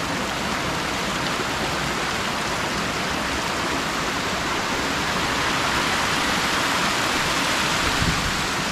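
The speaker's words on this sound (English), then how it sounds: "That's the raging water." A raging river or waterfall on the Overland Track in Tasmania roars as a loud, steady, continuous rush, unbroken from start to finish.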